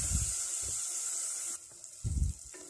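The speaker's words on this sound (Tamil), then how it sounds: "இனி தக்காளியை போட்டு நம்ம நல்லா வதக்கலாம்." Shallots and tomatoes with curry leaves sauté in a clay pot, giving a steady soft sizzle and hiss broken by a few low clunks of stirring.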